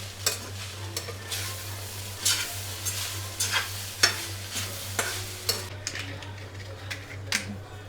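A spoon stirs poha in a sizzling pan on the stove, with soft frying hiss under repeated light scraping and clinking strokes at close range.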